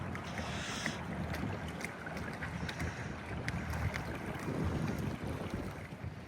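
A low, steady motor drone from a boat heading away over water, mixed with wind buffeting the microphone and faint wave splashes, fairly quiet and continuous.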